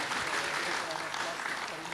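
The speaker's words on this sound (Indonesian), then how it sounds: "Tepuk tangan buat Tasvan Santacita." Quiet, steady applause from an audience at a Buddhist Dhamma event, a soft continuous patter of clapping with no voices standing out.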